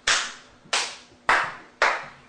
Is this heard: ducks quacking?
no